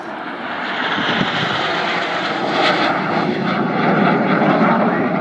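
Red Arrows jet aircraft flying in formation at the Yeovilton Air Day display, a loud broad engine roar that swells and holds steady throughout.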